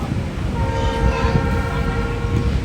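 The Darjeeling Mail arriving at a station, rumbling with a sustained tonal horn or whistle sounding over the rolling noise of cars on the rails.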